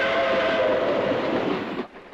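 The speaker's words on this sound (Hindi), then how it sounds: "ये रेल तो बम्बई जा रही है।" A train bound for Bombay rolls along the rails with a loud, dense rumble and roar close by, a faint whistle-like tone riding on top, then the noise cuts away abruptly near the end.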